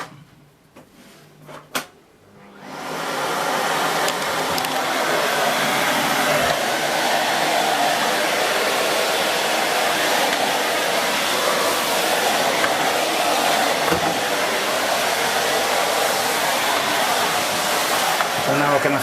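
A Miele C2 Compact vacuum cleaner on its hard floor setting, starting after a few seconds of handling clicks and then holding a loud, steady, close whooshing roar with slight fluctuations for the rest.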